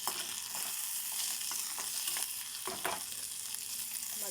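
Ivy gourd fries in a little oil with a soft, continuous sizzle broken by light stirring clicks and scrapes.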